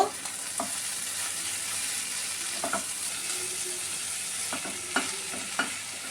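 Small kachki fish with onions and salt are stirred in a hot pan. A soft, continuous sizzle runs under a few scattered spatula taps and scrapes, with quiet stretches between them.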